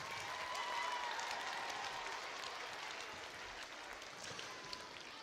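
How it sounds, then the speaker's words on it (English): A lecture-hall audience at a Christmas science lecture gives a round of applause for a volunteer named Derek, a faint, distant wash of clapping that holds steady and slowly tapers. "Round of applause for Derek."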